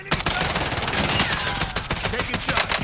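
Oden rifle fired from the hip in Call of Duty Warzone, a loud continuous stream of heavy rapid shots that barely pauses across the whole stretch.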